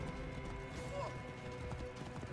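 Horse hooves clip-clopping at a gallop in the video game Assassin's Creed Origins, a steady rapid beat amid dense game music and effects, with a brief whinny and a voice talking over it.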